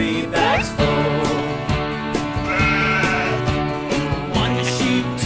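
Sheep bleats ring out in a bouncy children's nursery song, Baa, Baa, Black Sheep, over loud rhythmic music and a steady beat, with a short wavering bleat near the start.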